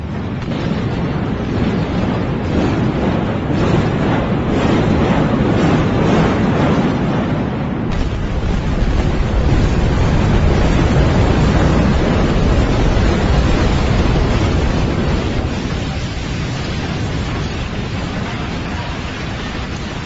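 Controlled demolition of an unfinished high-rise development in China: a long, loud, continuous roaring rumble of collapsing structure and blast, heavy and sustained throughout, fading slightly toward the end.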